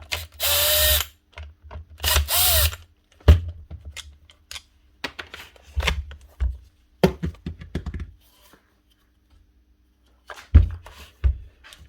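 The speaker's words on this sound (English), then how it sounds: "Sounds like a burnt out motor. Either that or it's totally jammed." A Makita HR2811F hammer drill with a burnt out or jammed motor sputters in short, strained bursts of grinding whir, broken by rattling clicks and knocks between attempts.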